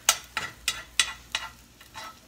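Bacon frying in a home kitchen pan, with a series of about seven sharp sizzling bursts that come at a steady beat and fade slightly in strength, close and fairly quiet, with no talking.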